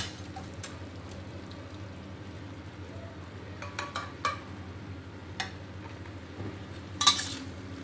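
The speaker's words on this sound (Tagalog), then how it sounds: "Haluin lang natin guys ng mabuti para ma-absorb ng hipon yung ating sauce" Metal spoon stirring fragrance prawns in sauce in a pan, with soft scraping and faint clinks that build to a brief louder clatter near the end, over a steady low kitchen hum.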